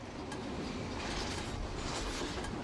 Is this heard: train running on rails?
yes